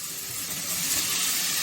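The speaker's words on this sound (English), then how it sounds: "So here I've added some tomatoes. They're all frying well." Chopped tomatoes frying in a pan for millet vegetable khichdi, a continuous bright sizzle that rises slightly in intensity, heard up close with no talking.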